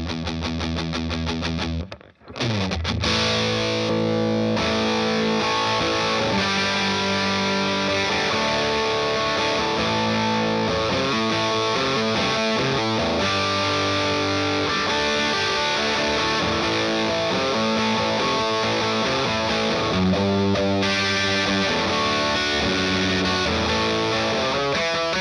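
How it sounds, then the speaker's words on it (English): Heavily distorted electric guitar through a ProCo Rat 2 distortion pedal stacked with an overdrive pedal, playing chords and riffs continuously, loud and saturated, with a brief silence near the start before the overdriven tone kicks in. "let's use it in conjunction with another overdrive pedal."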